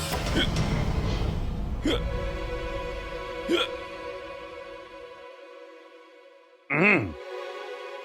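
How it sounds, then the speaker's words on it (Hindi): A person in a Hindi TV drama hiccups three times, sharp separate catches spread over several seconds, with a sustained musical tone underneath. "अरे इतना भी याद मत करो कि हिचकी आ जाए"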